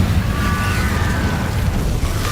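In Hogwarts Legacy, an Incendio fire spell roars as a steady, loud whooshing burst of flame, dense and rumbling throughout, with a faint whistling tone early on and no talking.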